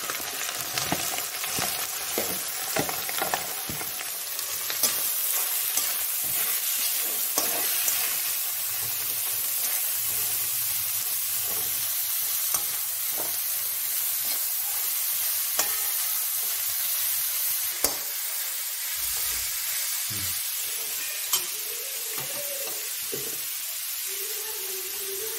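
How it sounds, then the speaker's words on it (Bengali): Ginger and cauliflower dropped into hot oil crackle and sizzle steadily, with occasional stirring clinks and scrapes, close up and with no talking. "আমার তেল এধারে গরম হয়ে গেছে, আমি আদাটা দিচ্ছি। ফুলকপিটা দিয়ে দিচ্ছি।"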